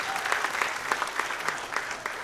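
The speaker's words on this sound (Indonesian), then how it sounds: "Ya, tepuk tangan buat kemuliaan Allah." Congregation applauding during a Sunday evening church worship service, a steady dense patter of many hands clapping at moderate loudness, with faint voices underneath.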